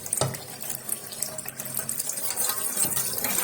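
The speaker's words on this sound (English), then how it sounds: "it's time for me to wash my meat" Water running from a tap into a sink as raw meat for afang soup is washed, a steady close splashing and trickling stream that continues throughout without speech.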